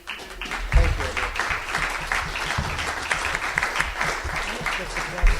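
Audience applause after a panel discussion, a sustained burst of many hands clapping close by, with a voice talking over it.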